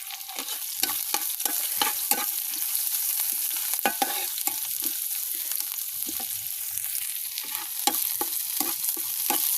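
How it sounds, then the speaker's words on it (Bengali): Onions and green chillies fry in oil in a wok, with a constant sizzle broken by close, rhythmic scrapes of a spatula stirring them throughout. "পেঁয়াজটাকে বাদামি কালার করে ভেজে নিব"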